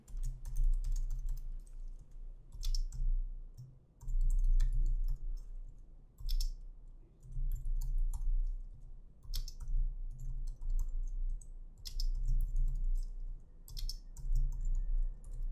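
Steady close typing of JavaScript code on a computer keyboard, a stream of light key clicks with brief pauses, over a low constant hum.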